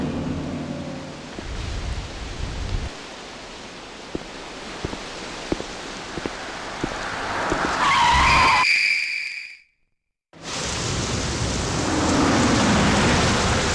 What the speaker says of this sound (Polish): tam jedzie następny samochód. On się nie zatrzyma.